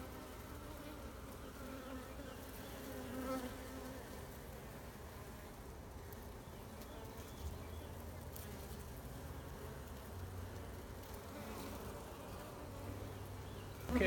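Honey bees buzz steadily inside an opened hive being set up as a double-queen over/under colony, a dense continuous drone close at hand with no talking over it.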